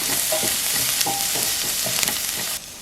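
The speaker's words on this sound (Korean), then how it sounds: "중불에서 양파의 향이 올라올 때까지 볶으세요." Sliced onions fry in oil with salt in a pan over medium heat, a loud close sizzle with quick stirring scrapes, cutting off abruptly near the end.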